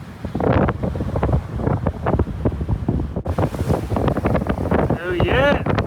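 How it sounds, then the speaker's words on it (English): Strong gusting wind of a squall buffets a boat, roaring loudly and continuously across the microphone with fluctuating bursts, while voices seem to sound faintly beneath it. "It's windy."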